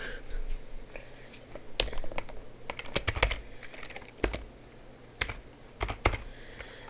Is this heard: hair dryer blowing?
no